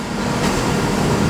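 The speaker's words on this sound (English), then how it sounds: "Departing there is the 1414 London Northwestern Railway service to London Euston." London Northwestern Railway passenger train pulling out of Birmingham New Street station, a steady low rumble of wheels and traction noise filling the platform without a break.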